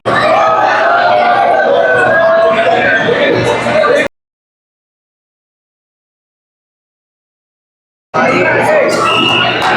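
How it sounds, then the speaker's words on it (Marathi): A dense crowd at Mahakal temple in Ujjain fills the air with loud, overlapping chatter and shouts. The noise cuts to dead silence midway, then the same close, busy crowd din returns. "नुसती गर्दी"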